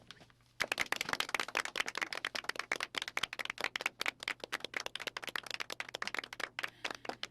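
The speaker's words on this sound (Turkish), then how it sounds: "O içeri girince hepimiz birden alkışlayacağız tamam mı?" Schoolchildren in a classroom break into loud, close clapping as their teacher walks in, a sudden burst of rapid, uneven claps that keeps going after a brief quiet start.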